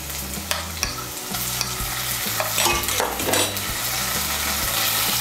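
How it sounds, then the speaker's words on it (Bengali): Ginger, garlic and green chili paste is stirred into hot oil in a pan, with a steady sizzle, scraping of a spoon against the pan and a few sharp clacks, close and with no voices. "আদা বাটা, রসুন বাটার কাঁচা লঙ্কা বাটাটাকে তেলের সঙ্গে ভালো করে মিশিয়ে নেব"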